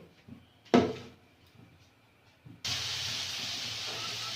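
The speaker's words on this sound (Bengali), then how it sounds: "আলুটা ভাজা হয়ে গেছে" In a village kitchen, potatoes fry in a kadai on a lit stove. A heavy clunk comes first, then quiet, then a sudden steady hiss of frying that holds to the end.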